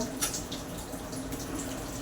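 Water poured into a pot of moth bean curry (matki usal), a soft watery splash and trickle with a brief louder burst at the start, fairly quiet and with no talking.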